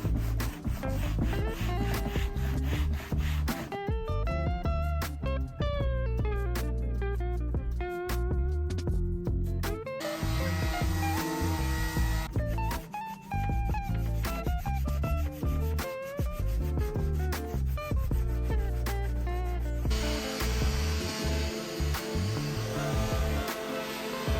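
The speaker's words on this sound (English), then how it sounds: "I used my hand and a folded piece of sandpaper, and without being fancy, this is a really great way to really get into those small crevices" Wooden furniture edges and small crevices hand-sanded with a folded piece of sandpaper, a repeated rubbing scrape running beneath loud, prominent background music throughout.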